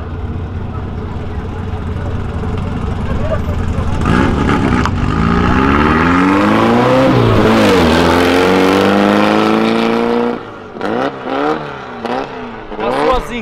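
A car's engine revving hard as vehicles leave a charity car event, rising roar with climbing harmonics, then a drop and several short blips of throttle, while bystanders talk over it.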